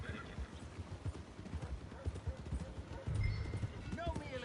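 Horse hooves clip-clop at a steady walking rhythm on a dirt track in the video game Red Dead Redemption 2, close by, under ongoing character dialogue, with a brief louder thump near the end.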